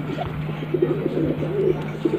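Several pigeons coo in low, soft, repeated phrases close by, with a steady hum running underneath throughout.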